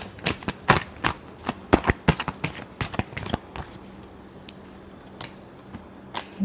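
Tarot cards are shuffled in quick bursts of crisp, riffling snaps, close and loud, and the snaps then thin out into a few scattered flicks. No one speaks.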